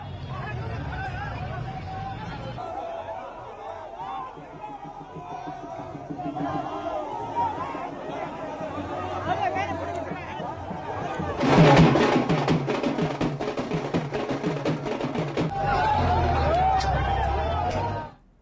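A large crowd of supporters gathers at a candidate's road show before his nomination from Sarairanjan in the 2025 Bihar election, a busy outdoor hubbub of many voices with a louder burst of noise near the end.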